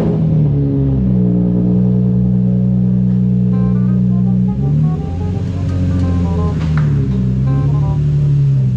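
A car travels steadily down the road, its engine droning with a sustained hum and tire roar throughout, rising and shifting pitch slightly as it changes speed.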